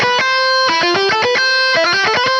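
An electric guitar plays a fast six-note lick pattern twice in quick succession, bright clean picked notes ringing loud and close with sustained harmonics between the phrases.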